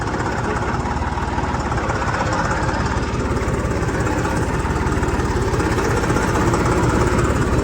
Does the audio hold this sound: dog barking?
no